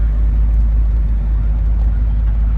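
Original 1967 Shelby Mustang GT500 V8 drones steadily at cruising speed from inside the car, a dense, continuous low rumble with road noise, loud and unbroken for a few seconds.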